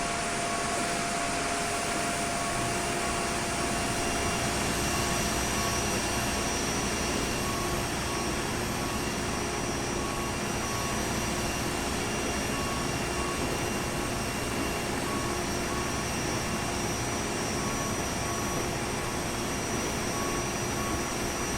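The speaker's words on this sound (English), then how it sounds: "Pack's on, guys. Recirc fans are on." Boeing 787-10 air-conditioning packs and recirculation fans in Microsoft Flight Simulator give a loud, steady broadband whoosh of airflow, with no change across the whole stretch.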